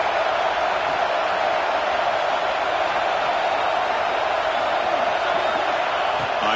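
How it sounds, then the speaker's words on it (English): Football stadium crowd at a Virginia Tech vs Penn State game roaring steadily, a dense, loud wall of cheering and whooping that holds without a break throughout. "It's early, but this crowd is fired up. Listen to this noise here."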